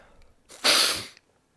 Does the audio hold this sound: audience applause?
no